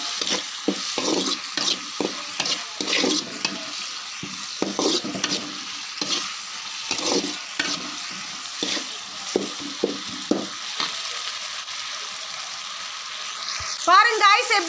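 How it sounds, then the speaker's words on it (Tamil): Peanuts fry and get stirred in a pan for chutney, a steady sizzle punctuated by frequent rhythmic scraping strokes, close and fairly loud, with a brief watery sound near the end. "இது பாருங்கள் வேர்க்கடலை நல்லா வந்து ஃப்ரை ஆயிடுச்சு."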